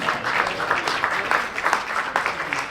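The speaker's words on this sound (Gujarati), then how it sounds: "જોરદાર તાળીઓના નાદથી" Devotees at a religious discourse applaud together, a dense, continuous burst of clapping from a large crowd that swells and ebbs in waves throughout.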